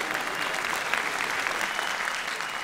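A studio audience at a Turkish televised talent show claps for a stand-up comedy act, producing dense, sustained applause that stays loud and even throughout.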